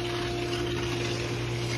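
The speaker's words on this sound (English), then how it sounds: "that is the sound of the pool pump running" A pool pump runs steadily, a continuous mechanical hum with faint watery gushing, constant and unbroken at moderate level with no talk.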